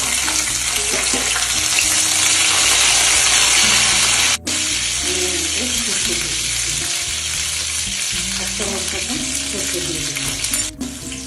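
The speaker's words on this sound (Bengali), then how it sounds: "শুকনো লঙ্কাটা ফোড়ন হয়ে গেলে আমি কারি পাতা দিয়ে দিচ্ছি এর মধ্যে।" Curry leaves go into hot oil with two dried red chilies for a vegetable dal. A loud, dense crackling sizzle runs throughout, close and continuous, with a couple of brief dips.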